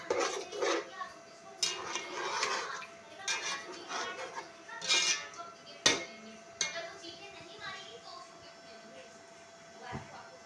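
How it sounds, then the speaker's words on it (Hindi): Spoon scraping and clinking quickly against a biryani pot while yogurt is stirred, irregular metallic taps and sharp knocks, close, with a voice talking over part of it. "फिर तेज़ तेज़ जो है इसके अंदर चम्मच चलाएंगे फौरी तौर पे, ताकि दही जो है वो फटे ना"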